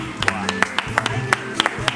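A television studio audience applauds a guest with rapid, fairly even clapping from a modest crowd, steady and moderately loud throughout.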